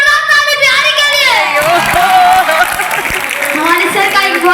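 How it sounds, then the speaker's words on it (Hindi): Crowd at a kavi sammelan (poetry gathering) in Patna cheering and clapping for Biharis, a loud, dense mix of shouts, whoops and applause that holds steady for the whole stretch. "एक बार जोरदार ताली बिहारी के लिए।"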